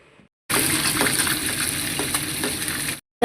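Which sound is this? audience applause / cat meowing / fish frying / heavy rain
fish frying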